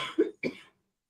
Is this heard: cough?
yes